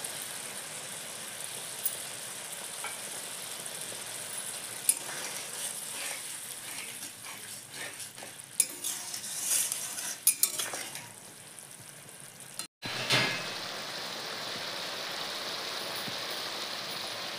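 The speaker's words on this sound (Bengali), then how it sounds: "এখন আমি গরম মশলাটা জল দিয়ে ভালো করে গুলে মিশিয়ে দিয়ে দিচ্ছি।" Garam masala mixed with water being stirred into a boiling curry, giving steady close sizzling and bubbling with scraping spoon-against-pot clatter throughout, a sharp clink near the end, and no talking.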